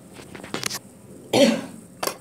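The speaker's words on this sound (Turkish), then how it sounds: "öksürmeye çalışıyorum böyle öksürüğüm ama öksüremiyorum." A sick man's dry, strained coughs during a Free Fire game session: a few short bursts, then one louder, rougher cough and a final quick one, all close up with no talking.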